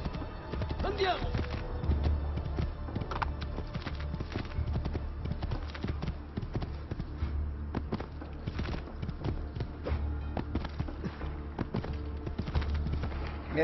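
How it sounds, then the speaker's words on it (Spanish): Hooves clip-clop steadily from a horse in Assassin's Creed II, a brisk repeated rhythm running throughout, with game sounds and some background voices mixed in. "Necesito un caballo."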